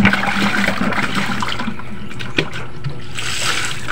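Water pours and splashes continuously as a turtle's tank is emptied and refilled, a steady rushing trickle close by with no talk.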